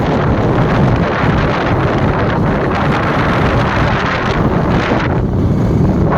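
Strong wind buffets the microphone in a steady, heavy roar that barely lets up for the whole stretch.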